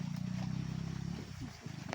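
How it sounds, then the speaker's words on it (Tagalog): A motorcycle engine drones low and steady at night, then its pitch shifts as it draws nearer, with some clatter toward the end. "Bago pa muna kasi may motor na parating."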